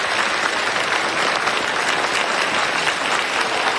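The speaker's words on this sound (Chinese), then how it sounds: "掌声有请" Steady, dense applause from an audience welcoming the chairman of a competition organizing committee onstage at a ceremony, sustained and loud throughout with no voices over it.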